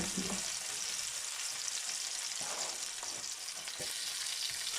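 Onion, scallion, red sweet pepper and Scotch bonnet pepper fry in a pan, giving a loud continuous sizzle close by with occasional stirring scrapes, no voice.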